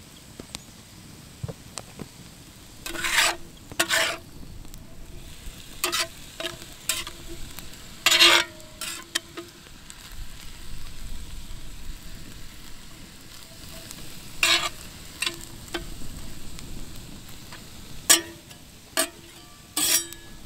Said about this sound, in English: While I'm waiting on this meat to brown